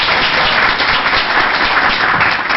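Applause fills a council meeting room, a continuous patter of many hands clapping at moderate distance, steady for the whole stretch.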